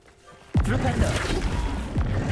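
A Flipendo spell strikes in the video game Hogwarts Legacy: a sudden loud crashing impact followed by a dense rumbling burst, with a second thud near the end.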